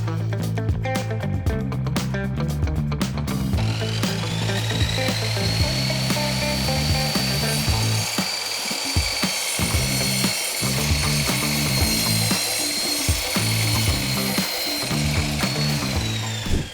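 A plunge saw cuts a wooden board to length: a few seconds of rapid rattling clicks, then a long, loud, steady high whine of the blade through the wood.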